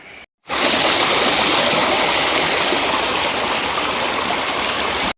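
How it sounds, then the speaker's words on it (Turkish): A rushing mountain stream on Uludağ roars steadily and close, a dense continuous hiss of flowing water after a brief pause at the start. "Rota boyunca her taraf dere."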